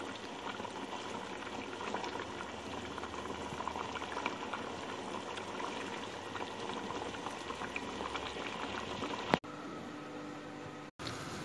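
A pot of chicken stew with cabbage bubbling away on the stove, a soft, steady, continuous boil heard faintly from close by, with a brief click near the end.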